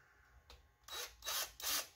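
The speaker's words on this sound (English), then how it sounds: "you have to drill a little hole in the top of this" Short bursts from a power drill boring a small hole in the top of a knife, with a soft whir rising into three loud close drilling runs separated by brief pauses, no voices.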